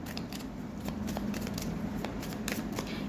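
A tarot card is slid out of a deck with soft papery shuffles and light crisp flicks, quiet and close, repeated several times over a few seconds.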